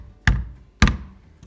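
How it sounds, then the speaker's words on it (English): An awl tapped into a door to mark a drill hole: two sharp knocks about half a second apart, then a fainter third tap. "tap in that marking hole so our drill bit has somewhere to lead into"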